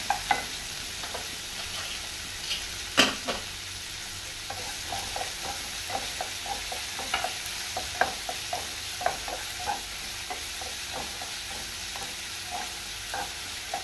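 A tomato mixture fried and stirred in a pan, soft sizzling under a regular series of spoon scrapes and taps, with one louder knock early on and no talking.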